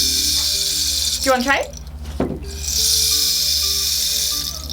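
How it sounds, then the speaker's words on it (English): Homemade rain stick made from a dried cactus with its spines pushed inside and filled with beans or pebbles, giving a soft hissing trickle that swells and fades over several seconds, with a brief spoken question in the middle. "they put the spines of the cactus in there, and then the beads or the rocks or whatever would fall to make the noise"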